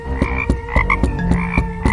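A frog croaks loudly and close in a steady rhythm, roughly one pulse every quarter second, alone without voices.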